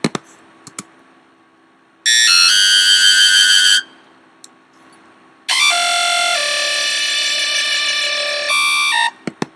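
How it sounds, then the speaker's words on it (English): A bright, buzzy synthesizer bass plays alone in two long sustained notes separated by a short gap, loud and close. "So I'll solo the bass real quick just so you can hear it."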